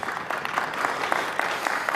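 An audience at a cloud networking tech talk claps steadily throughout, with dense moderate applause that sounds fairly close.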